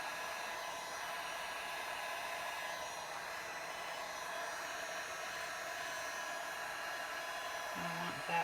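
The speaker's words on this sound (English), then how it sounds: "You can push your resin around with your heat gun and move it where you want it." A heat gun blows steadily over poured resin in a Dutch pour. The airy whoosh stays constant and close for the whole stretch, with no talking over it.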